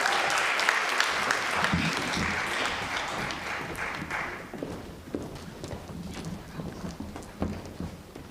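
An audience at a Black History Month music program claps for a step team, starting as a loud, dense burst of applause that thins out into scattered, uneven claps and faint crowd noise.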